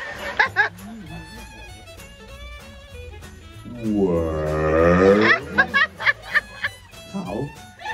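A single cow moos loudly and close up, a long, swelling low call that rises and falls, set between bursts of lively talk and laughter.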